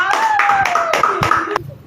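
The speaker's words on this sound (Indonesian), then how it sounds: "Tepuk tangan dulu untuk Pano." Classroom students applaud in a short burst of rapid clapping while a voice speaks over it.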